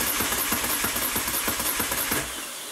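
A 2012 Moto Guzzi Norge motorcycle that cranks but will not start: the starter churns the engine in a fast, even rhythmic whir, loud and close, then stops abruptly near the end without catching.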